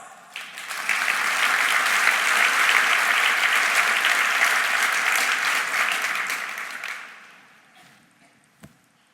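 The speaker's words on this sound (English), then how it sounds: "Please give their relentless hard work a round of applause" Keynote audience at a Long Beach education conference breaking into applause that swells quickly, holds strong and even for several seconds, then tapers off into near quiet with a single knock.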